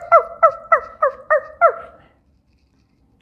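A voice imitates a dog barking: six quick, evenly spaced yapping barks, loud and close, followed by a short silence.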